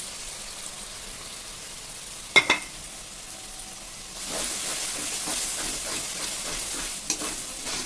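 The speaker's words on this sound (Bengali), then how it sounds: "এবার দেখো আমি সব রকম মশলা ভিজিয়ে রেখেছিলাম সব ছেড়ে দিলাম" Soaked spices drop into hot goat fat and garlic in a pan. A couple of sharp clicks come first, then a loud, dense hiss of frying swells up and holds steady, with stirring.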